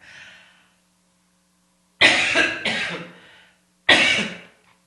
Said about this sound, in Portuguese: desculpem que eu estou com um pouquinho de tosse